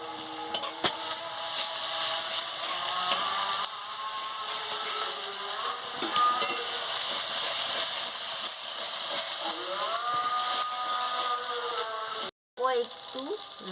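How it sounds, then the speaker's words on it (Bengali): Ginger garlic paste fries with browned onions in mustard oil, a continuous close sizzle with faint crackles and stirring that runs steadily, broken by one brief dropout near the end. "এবার পেঁয়াজটা ভাজা হয়ে গেছে, আদা রসুন বাটাটা দিয়ে দিচ্ছি।"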